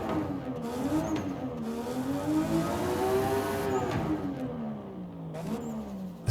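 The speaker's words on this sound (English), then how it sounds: "It still sounds like a Forza exhaust, but it sounds like it is the 1J that's in it" Engine note from a car fitted with a 1J engine in Forza Horizon 5, a steady revving exhaust drone that rises, falls and swells again, with brief pops between gear changes and no voices.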